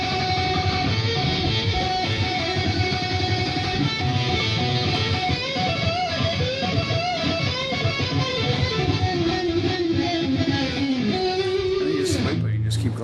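An electric guitar solo with sustained, bending melodic lines, loud and continuous, ending with a brief squeal and low tail.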